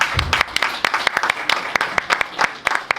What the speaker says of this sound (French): Je vous demande de les applaudir pour commencer.